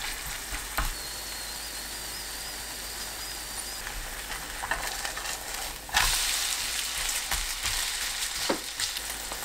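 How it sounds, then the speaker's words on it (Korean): Bean sprout jangtteok batter sizzles steadily in hot oil in a frying pan over medium-low heat, a close, continuous crackle with occasional sharper pops and spatula scrapes. "반죽 올려 모양 잡은 뒤 중약불로 위아래 노릇하게 부쳐내면"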